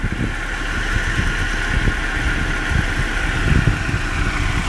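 Moped engine running with a hissing, turbine-like whine, no airbox fitted, loud and close with a steady high-pitched hiss over an uneven low engine rumble.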